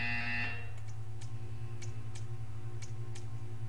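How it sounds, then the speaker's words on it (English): A game buzzer sounds in the Portal 2 video game, a sustained harsh buzz at the start followed by sparse ticking clicks over a low steady hum. "You will hear a buzzer."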